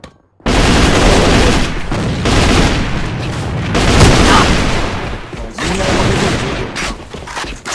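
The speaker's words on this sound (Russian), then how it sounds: "Бросаю гранату!" In the AVA shooter game, a grenade explosion goes off with a loud boom and is wrapped in sustained bursts of close gunfire that roar on almost without pause, with brief dips between volleys.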